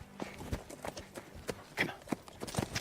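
Horse hooves clip-clopping in a quick running rhythm, a steady series of sharp hoof strikes at moderate distance, with no clear speech over them.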